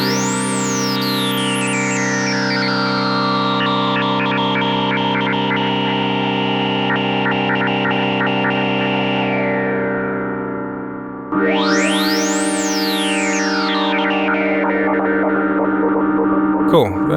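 Sustained Moog Matriarch synthesizer glitch pad, a dense harmonic drone whose filter envelope sweeps bright tones up and down, with a stepped sequenced shimmer and a sudden re-triggered rise near the end, loud and unbroken.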